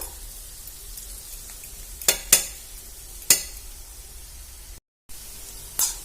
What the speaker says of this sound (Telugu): క్యారెట్ అయితే ఇట్లా మంచిగా ఫ్రై కావాలన్నమాట